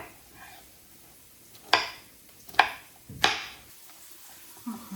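A knife chops food on a cutting board in three sharp, separate strikes about a second apart, close and crisp against an otherwise quiet kitchen.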